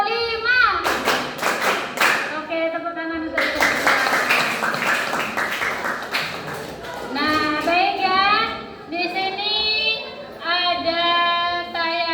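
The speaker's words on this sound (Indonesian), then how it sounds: "tepuk 1, tepuk 2, tepuk 3, tepuk 4" Children in a classroom clap a counted pattern in bursts, sharp group claps separated by pauses, alternating with children's voices chanting and speaking loudly between and over the claps.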